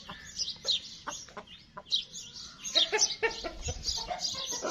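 Blue Columbian Brahma hens cluck and squawk nearby in a run, with repeated short calls scattered over a low background murmur.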